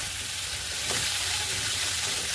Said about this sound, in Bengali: এদিকে ভাজা হচ্ছে, দেখতেই পাচ্ছ